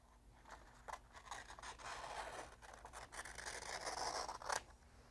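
Scissors slice through heat transfer paper in a quiet indoor setting, giving a run of soft, close scraping snips with a sharper cut near the end.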